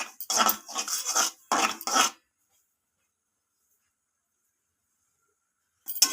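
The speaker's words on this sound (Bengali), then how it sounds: "এইভাবে নাড়াচাড়া করতে হবে, তার কারণ যাতে সুজির প্রত্যেকটা দানা ভাজা ভাজা হয়" A spoon scrapes through semolina dry-frying in a kadai, several quick rasping strokes in a row, then the stirring stops and near silence follows.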